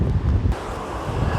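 Strong wind buffets the microphone on a coastal footpath in Cornwall, a loud low roar of gusts alone with no voices.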